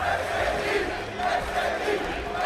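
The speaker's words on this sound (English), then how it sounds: "You can hear the chants of SKT coming out from the crowd." An arena crowd at the 2015 League of Legends World Championship semifinals chants in a rhythmic, swelling roar for SKT, a dense mass of voices heard at a moderate distance.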